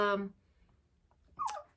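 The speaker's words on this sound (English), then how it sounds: "my puppy is such a baby" A pet puppy whimpers in a brief, high, wavering cry at the start, followed by a fainter whine or sniff near the end, with quiet room background between.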